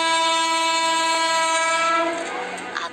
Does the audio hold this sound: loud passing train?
yes